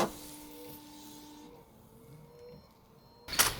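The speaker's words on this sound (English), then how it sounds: "change the rear wiper blade as it currently makes this sound" A worn rear wiper blade on an Audi A1 squeaks across the glass in a steady, thin tonal whine with faint overtones, followed by a louder brief scrape at the end; nearby and alone, with no voices.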